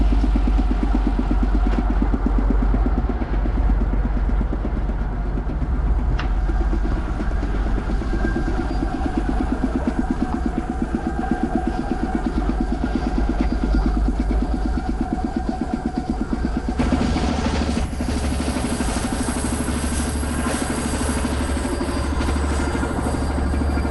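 A ZMZ523 carbureted engine for a party bus runs steadily and loudly with its compressor air supply still unconnected, a continuous close drone whose tone shifts and brightens slightly toward the end.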